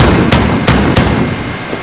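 Three sharp gunshots ring out in Modern Warfare (2019), each a loud broadband crack spaced about a third of a second apart over a dense, rumbling game background.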